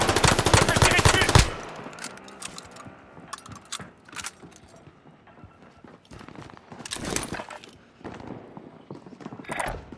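Call of Duty: Modern Warfare gunfire bursts loud at the start, then scattered shots, clatter and mechanical noises come and go amid battle ambience, with a voice speaking briefly.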